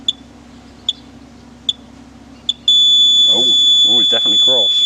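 A Flymo 1200R robotic mower chirps four short, evenly spaced beeps because its PIN has not been entered, then a steady high alarm tone sounds continuously while a person talks over it.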